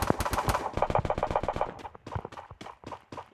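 Rapid bursts of automatic gunfire in a first-person shooter video game, fired in quick, sharp repeated shots that thin out toward the end, moderately loud and with no talking.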